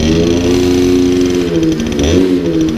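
The warm engine of a 1962 Paloma Vésuvio moped idles steadily and loudly up close, a buzzy mechanical drone with a slight dip and pickup near the end.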